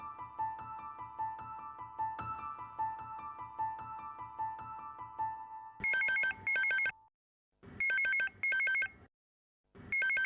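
A household telephone in a Hindi sitcom home scene rings in repeated bright double-trill bursts with short gaps between them, loud and close, after soft background music fades out.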